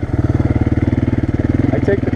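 An ATV quad engine runs loud and close, with a fast, steady throbbing pulse at idle or low revs throughout, on a muddy trail ride.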